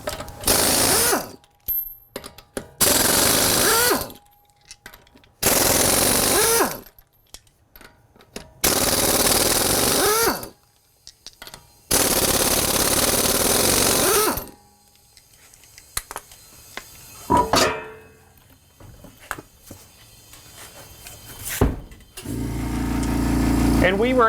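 A pneumatic impact wrench run from an air compressor with an added extra tank removes five lug nuts in repeated loud, rattling bursts, each lasting a second or two and separated by short pauses.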